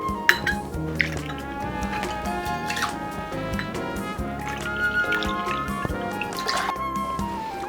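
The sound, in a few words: pouring mixed rum into a cocktail shaker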